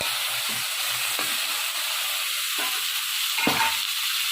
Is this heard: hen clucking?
no